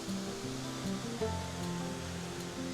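A waterfall in Victoria, Australia gives a steady, broad rushing roar heard close by, with faint tonal sounds drifting over the constant wash of falling water.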